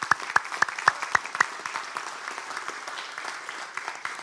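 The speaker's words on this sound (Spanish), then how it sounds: "¿por qué no le damos un aplauso al Señor" A church congregation claps in praise, a few loud distinct claps at first, then a dense, even wash of applause continuing to the end.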